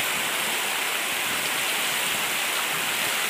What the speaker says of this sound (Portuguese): Fazia quase um mês que não tinha chovido